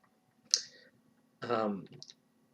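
A single sharp computer mouse click, close and clear, while working in an Excel spreadsheet, followed by a person talking.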